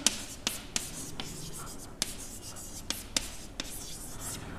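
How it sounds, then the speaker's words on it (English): Quiet pen strokes and taps of handwriting on a board or page during a biotechnology lecture, a series of soft scratches with sharp clicks spaced irregularly, heard alone and close. "writing both these points together"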